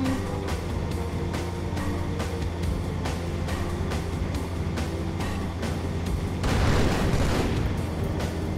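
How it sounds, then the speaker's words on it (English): Game explosions in Halo 2 co-op boom out amid a dense barrage of combat noise, with a louder blast swelling near the end over steady rumbling gunfire. "Explosion."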